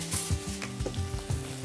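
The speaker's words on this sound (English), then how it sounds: "you want to hear the sizzle" Loud, close sizzling and crackling of a snapper fillet frying in a hot, smoking pan, with light scraping of a utensil.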